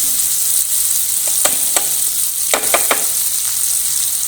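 Crisp sizzling of crushed garlic frying in a pan for butter chicken, with a few scraping stir strokes clicking over the steady hiss; close and loud, no voices.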